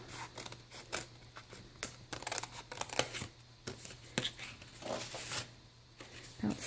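Scissors cut a scrap of paper for a handmade junk-journal envelope flap, making faint, close, irregular snips and rustles.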